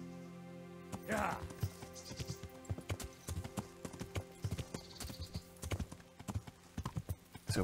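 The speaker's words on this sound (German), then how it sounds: "Das wäre ein Pferd." In the Kingdom Come: Deliverance video game, a horse's hooves clop in an irregular walking rhythm, fairly close and distinct, with a short burst of other sound near the start and speech mixed in at times.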